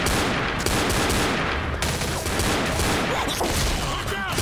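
Dense, loud shotgun and rifle fire blasts continuously at a zombie horde in Left 4 Dead, a relentless wall of overlapping shots with no let-up throughout.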